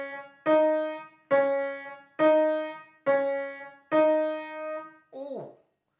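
Beginner piano exercise of single notes alternating between right and left hand, five evenly spaced sustained notes ringing out one after another, followed by a short fading vocal sound.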